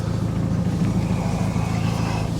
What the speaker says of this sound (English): she's back outside again and seems to be idling pretty good